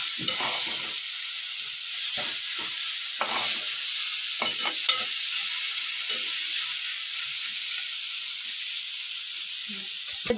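Ingredients sauté in a hot pan with a steady broadband sizzle throughout, broken by scattered stirring scrapes and clinks, close and fairly loud with no talk.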